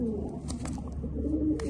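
A racing pigeon being readied for race season coos in low, steady rolling tones that run throughout, close by and moderately loud, with faint rustling and chirps above.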